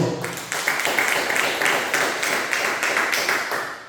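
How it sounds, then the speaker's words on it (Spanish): A church congregation claps together steadily and loudly for several seconds, with no one speaking over it. "denle un fuerte aplauso al Señor."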